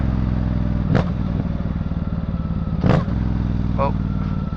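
A Suzuki GSX 8R motorcycle idles close by at a steady rumble, with two brief throttle blips as the rider practises wheelies; speech from the rider also comes through.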